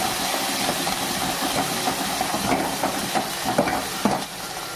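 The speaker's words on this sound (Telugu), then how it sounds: "జీలకర్ర వేసుకోవాలి. కొంచెం కరివేపాకు, కొంచెం కొత్తిమీర మంచిగా ఫ్రై చేసుకోవాలి" Cumin, curry leaves and coriander sizzle and fry steadily in a hot pan, a continuous close crackle with a few sharper spits and stirring taps, no voices.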